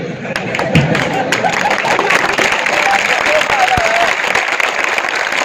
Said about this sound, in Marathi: तुम्ही जेवढ्या टाळ्या वाजवाल तेवढं मला बोलायला भूक येईल